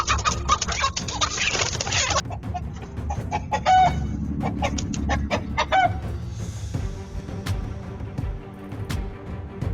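A rooster and hen in a chicken coop under threat from a predator, with loud clucking and squawking bursts up close, agitated calls rising and falling over a busy background.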